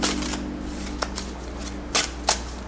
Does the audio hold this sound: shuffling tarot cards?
yes